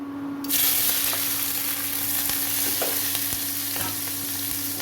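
Prawns frying in hot oil in a wok give a loud, steady sizzling hiss that starts abruptly and holds, with a few light pops and clicks, close and without talk.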